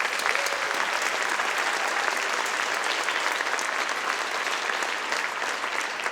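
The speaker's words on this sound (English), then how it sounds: "Let's give them a round of applause." A round of applause for the musicians at an arts festival concert, many hands clapping in a dense, steady wash that holds at an even level throughout.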